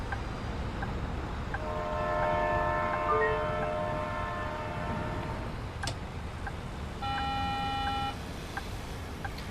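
Passenger stop-request chime on a bus in a Bus Simulator video game, a clear sustained electronic two-tone beep heard twice over the low rumble of the moving bus.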